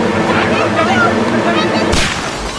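Gunfire in a Hindi action comedy film soundtrack: loud, harsh noise builds to a sharp gunshot crack near the end, with a voice faintly underneath.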